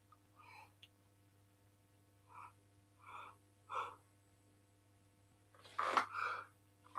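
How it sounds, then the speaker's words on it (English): A man's single sharp sneeze bursts out close to the microphone near the end, preceded by a few soft sniffing breaths in an otherwise quiet room. "I'm going to sneeze."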